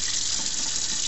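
Water runs steadily from a kitchen tap into a sink as it warms up before a small glass is filled, a continuous close, bright hiss with no pauses.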